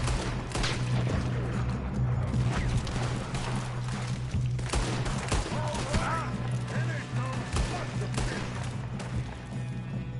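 Scattered gunfire in Red Dead Redemption 2 during a shootout against O'Driscoll gang members, with repeated shots and impacts over a dense, loud game soundscape of music and effects while voices talk.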